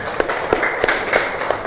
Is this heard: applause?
yes